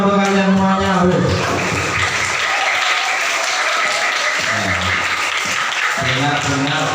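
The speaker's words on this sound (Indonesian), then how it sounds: "tepuk tangan dong untuk kalian semuanya" Primary school students at a prayer training session clap together in a sustained, mid-distance round of applause, with a speaker's voice heard before and after the clapping.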